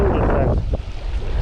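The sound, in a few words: wind at a shallow bay while fishing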